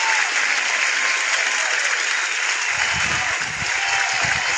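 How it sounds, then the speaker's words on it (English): Steady, loud applause, a continuous wash of many hands clapping, with low rumbling bursts joining in during the second half. "please, let us applaud Manchester United or Dimpa"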